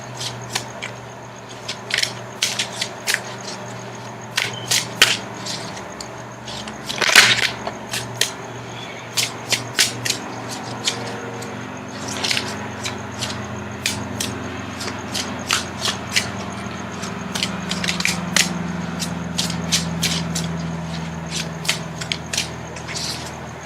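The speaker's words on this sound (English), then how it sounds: "Now I'm going to shuffle for the outcome card." Tarot cards being shuffled by hand, a series of short crisp riffling bursts repeating irregularly at close range over a low steady background hum, with no talking.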